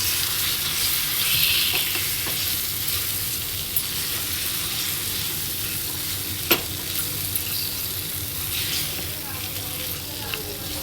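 Boiled chicken is stirred into fried masala in a pan, giving a steady close sizzle with occasional scraping clinks of a spoon against the pan throughout.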